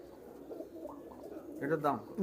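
A Kasuri pigeon coos in a low, throaty burst near the end, after soft background murmuring, close and moderately loud.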